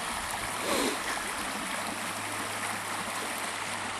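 Steady broadband rush of flowing water, like a creek running nearby, continuous and even throughout with a faint low hum underneath.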